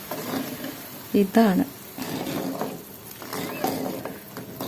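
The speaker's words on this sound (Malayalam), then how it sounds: "നല്ല തിളയ്ക്കണ സൗണ്ട് കേൾക്കുന്നുണ്ട്" Rasam curry boiling in a pot, giving a steady bubbling, sizzling texture that runs throughout beneath a person talking nearby.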